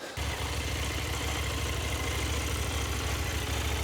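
A CF Moto 800MT adventure motorcycle engine idles steadily with a rough, rattling mechanical texture, close and continuous, with no voices.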